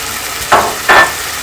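Shrimp and crab frying in a pan are stirred twice. Two short, close scraping strokes stand out over a faint background sizzle, with no talk.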